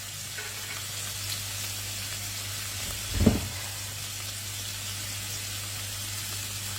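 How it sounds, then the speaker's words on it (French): Artichokes browning in a frying pan give a steady, close frying sizzle throughout, with one brief louder thump or clatter near the middle. "je viens de mettre les artichauts dans ma poêle. Je les fais dorer quelques minutes"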